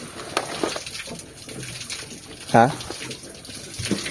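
A solar-powered water pump starts up and water begins trickling out, a faint splashing flow beneath a brief voice and a short louder burst midway.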